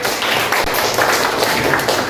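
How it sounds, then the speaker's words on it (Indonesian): An audience claps for a student group at a university class presentation in Indonesia, giving a dense, steady burst of applause that stays loud for about two seconds. "Tepuk tangan untuk kelompok 1."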